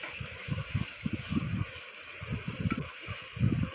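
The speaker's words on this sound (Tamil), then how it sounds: "நல்லா சுருங்கி வர அளவு நம்ம வந்து வதக்கிப்போம்" Tomatoes softening in hot oil in a pan for attu kaal paaya, a steady close hiss and sizzle with soft, irregular low bubbling pops throughout.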